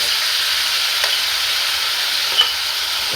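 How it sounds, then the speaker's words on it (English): Marinated beef sizzles steadily in hot oil, a constant close frying hiss with a few faint crackles and pops, no talking. "add my marinated beef to the oil"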